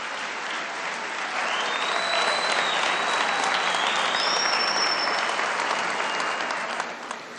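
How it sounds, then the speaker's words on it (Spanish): Sustained audience applause at a PSUV party congress in Venezuela where Nicolás Maduro is speaking; dense, steady clapping that swells after the first second and holds loud throughout, with no talk over it. "Un aplauso a Darío"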